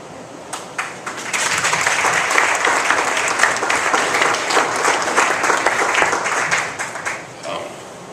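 An audience breaks into loud, sustained applause after a short lull, many hands clapping steadily in a room, building quickly and fading near the end, with faint talk mixed in.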